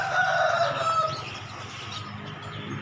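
A rooster crows once, loud and fairly close, the call trailing off after about a second over a quiet outdoor background.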